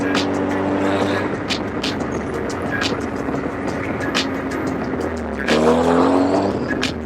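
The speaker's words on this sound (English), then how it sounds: "I don't know how much you guys can actually hear from the exhaust or from the engine bay" A car engine rumbles steadily with exhaust noise, then revs up louder toward the end, with a voice faintly audible at times.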